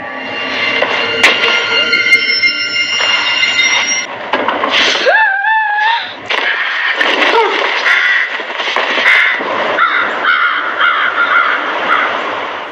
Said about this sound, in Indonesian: suara itu berasal dari seekor burung yang mungkin saja masuk dan terperangkap di rumah ini